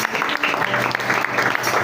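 A church congregation applauds in a steady, close patter of many hands clapping that fills the whole stretch, with some voices mixed in.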